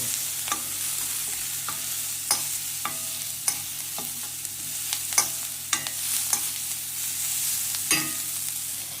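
Onion fries in a pan until it changes colour, a constant close sizzle broken by sharp, regular scrapes and taps of a spatula as it is stirred.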